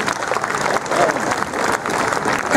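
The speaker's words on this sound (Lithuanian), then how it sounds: "Išlydėkime svečius plojimais." An audience at a village cultural ceremony applauds as guests leave. The clapping is dense and steady, and voices are faintly audible beneath it.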